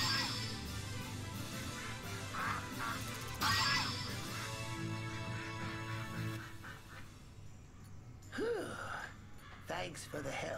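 Ducks quack in the Shenmue III video game, a few short nasal calls rising above a busy, continuous bed of game ambience and music.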